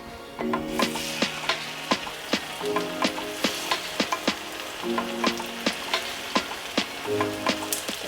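Cornstarch-coated chicken pieces fry in oil at about 350 degrees. A steady crackling sizzle runs throughout, broken by sharp regular pops and several short tonal clinks. It is close and moderately loud, with no talk.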